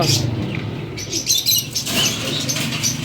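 Teddy pigeons cooing and fluttering nearby amid chirps and rustling, a busy, close-up bird chatter with faint background voices.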